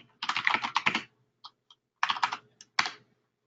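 Fingers type on a computer keyboard at a close distance, with a quick burst of keystrokes, a few isolated taps, then another short flurry of clicks.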